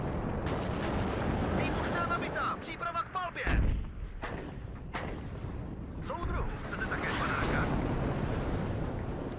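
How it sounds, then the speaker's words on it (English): Artillery fire in the WARNO wargame: heavy booming impacts and rumbling blasts roll continuously under a dense battlefield din, with a sharp close crack mid-way and distant explosions layering throughout. "Artillery is hitting pretty well."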